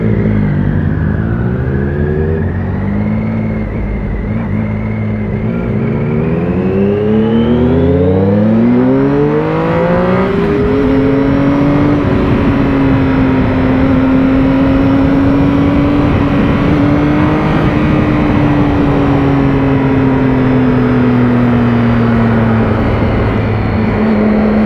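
Triumph Speed Triple 1050R motorcycle, a 2016 model, revving loudly close by, its engine note climbing and falling through several throttle blips before settling into a sustained higher rev.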